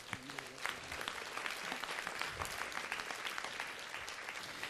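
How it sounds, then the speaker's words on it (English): At a city council meeting, an audience applauds a local Boys and Girls Club, a fairly faint but continuous patter of many hands clapping in a room, steady throughout with no talk over it. "So let's give them a round of applause."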